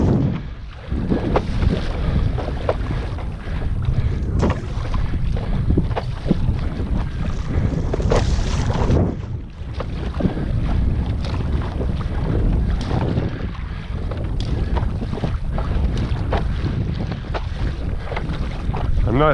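Kayak paddling on the ocean off Dana Point, steady wind buffeting the microphone over sloshing water and rhythmic paddle strokes, continuous and fairly loud.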